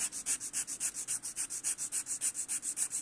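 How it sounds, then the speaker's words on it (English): A 100/180 nail file is stroked across fiberglass stiletto nails in a quick, even rhythm of about twenty close rasping strokes, with no talking. "start filing one side and then the other and then the other"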